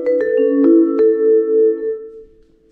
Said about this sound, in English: vibraphone